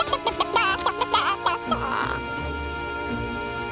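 Chicken or rooster clucking comes as a quick run of short, squawky, pitched calls. It sounds up close, then fades into a rougher, lower-level stretch of noise.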